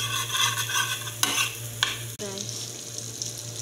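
Butter sizzles in a pan with chicken, a steady close frying hiss broken by a few scraping stirs of a utensil and a sharp clink.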